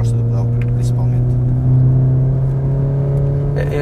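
A Volkswagen Golf 7R engine hums steadily inside the cabin, its low drone swelling slightly as revs rise, while people talk over it.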